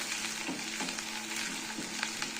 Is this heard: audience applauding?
no